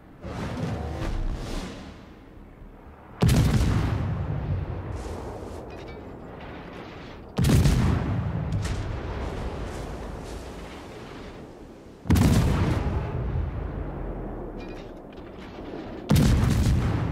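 Heavy naval gun salvos from the destroyer Udaloi in World of Warships: four loud, booming volleys spaced a few seconds apart, each with a long rumbling decay before the next.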